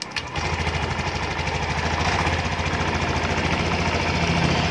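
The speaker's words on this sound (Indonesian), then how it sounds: "atau kita starter, hidupkan mesin dulu." A Honda Beat motorcycle engine starts with a sharp burst and then runs steadily, its loud idle a close, even, pulsing chug with no talk over it.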